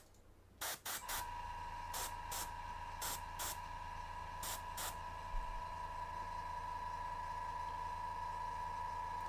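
Short bursts of airbrush spray hit a miniature model while glazing paint into highlight areas, several quick hisses early on over a steady compressor-like hum that runs throughout.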